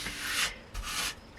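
Trowel pushing tile grout into gaps in a school bus conversion bathroom, two short rough scraping strokes, close and fairly quiet, with no talk.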